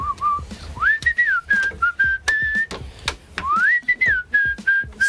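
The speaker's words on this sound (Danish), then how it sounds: "Det er sådan et arbejde, hvor man skal huske at fløjte" A person whistles a wavering, sliding tune while making Halloween rum balls in a kitchen, close and clear, broken by sharp clicks and knocks of handling ingredients and utensils.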